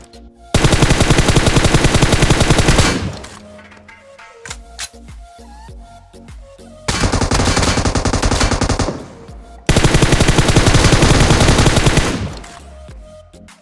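Sustained automatic gunfire in a mobile battle royale game, three long loud bursts separated by quieter gaps filled with scattered single shots and game sounds.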